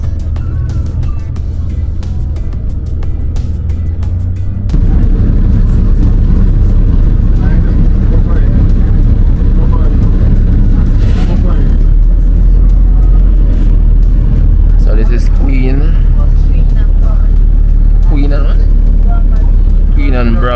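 A public city bus in Canada rumbles along with a deep, loud engine drone that grows heavier partway through as it accelerates, while passengers talk over the noise close by.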